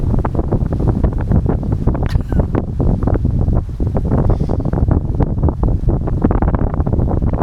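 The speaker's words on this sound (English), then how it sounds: "it's getting more windy" Strong, gusty autumn wind on a lake in Norway roars continuously across the microphone, a loud steady buffeting rumble with no voices.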